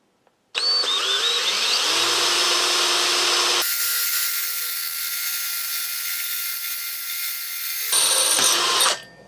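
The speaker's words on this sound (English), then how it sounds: "Go drill the next one." Power drill boring holes in a motorcycle side panel for a Kawasaki WR250E electric conversion, a loud steady high-pitched whine that shifts pitch midway and then cuts off after several seconds, with no talk.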